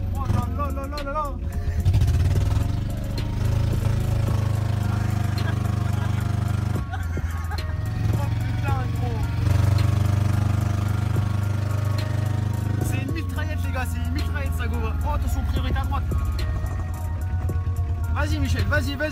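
The engine of a French licence-free microcar (voiture sans permis) drones steadily close up, with small rises and dips in revving, and people talk over it throughout.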